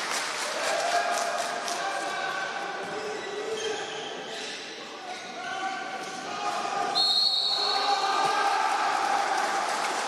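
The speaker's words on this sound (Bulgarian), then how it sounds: "чувате аплодисменти от феновете на Спартак." Spartak supporters applaud in the stands during a football match against Lokomotiv, a steady distant patter of clapping under a commentator's voice, swelling slightly toward the end.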